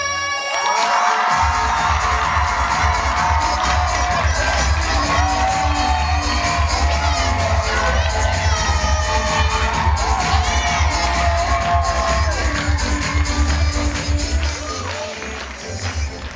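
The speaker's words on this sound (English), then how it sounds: "let's give a big cheer for Team Gummy Bear!" A room full of children at a girls' pajama party cheers, shouts and whoops loudly for Team Gummy Bear, a sustained burst that holds for most of the stretch before tapering off at the end.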